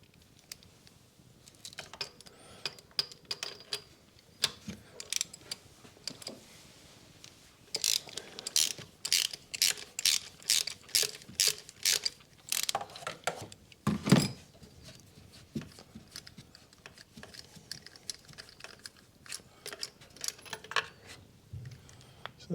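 A ratchet turning a 5/8 spark plug socket to unscrew spark plugs on a 2012 Ford Fiesta 1.2 Zetec petrol engine: quiet, close clicking in short runs of rapid ratchet strokes, with pauses and small metallic taps between.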